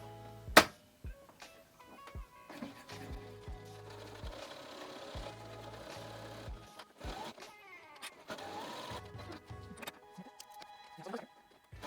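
A sewing machine stitches a patchwork fabric wristlet in short, steady runs, stopping and starting several times with a low mechanical hum and faint handling noises between passes.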